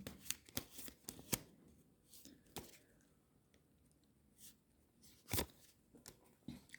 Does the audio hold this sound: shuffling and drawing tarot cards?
yes